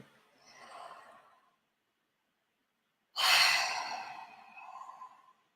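Deep breathing during a hip-circling exercise: a soft, long exhale followed after a pause by a louder, sharp inhale or sigh that trails off, close and with no talk.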